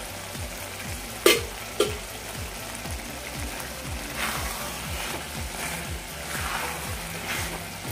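Butter sizzles in a pan of frying soya khima with a steady close crackle, broken by a couple of sharp utensil knocks and the soft scrape of stirring.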